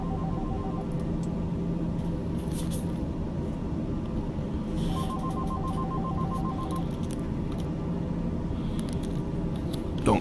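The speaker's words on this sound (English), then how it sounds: "Don't mind that, just my phone here" A mobile phone rings nearby during a flight simulator session with a TBM 930, a short repeating electronic tune heard in two bursts over a constant low engine-like drone.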